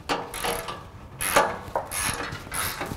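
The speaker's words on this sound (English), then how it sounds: "Can you hold the wrench on the inside of the nut?" A wrench tightening a nut on a bracket, several quick ratcheting clicks in bursts close by, with no talk.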